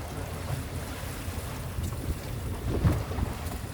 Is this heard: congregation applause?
no